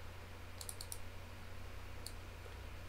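A computer mouse double-clicks: a quick cluster of faint, crisp clicks, then a single click a moment later, over a quiet steady hum.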